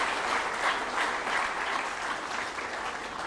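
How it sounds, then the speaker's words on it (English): Audience applause at a university orientation event, a steady wash of clapping from a crowd, heard from a moderate distance without talk. "Can we give a big round of applause for my parents?"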